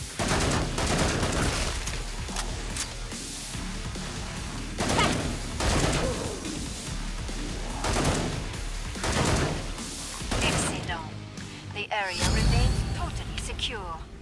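Video game gunfire while shooting enemies in Killing Floor 2, repeated loud bursts of shots and impacts running through the whole stretch with game noise underneath, and a voice talking over parts of it.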